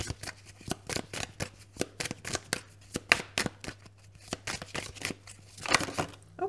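Tarot cards are shuffled for a reading, making repeated crisp riffling and slapping bursts in an irregular rhythm. The shuffling is close and fairly quiet, with no talking.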